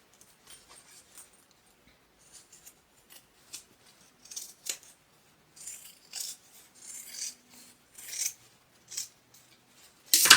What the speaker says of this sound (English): So now we want to trim that down. We just don't want too much bulk inside our bag.